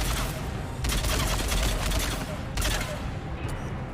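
Sustained assault rifle gunfire in the video game Mass Effect 3, with continuous rapid shots over a dense, loud battle backdrop and a couple of sharper blasts.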